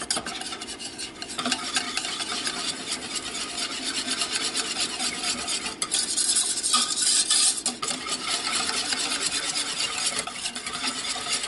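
Butter melting in a pan while being stirred, a steady close scraping and rubbing with a faint sizzle running continuously throughout.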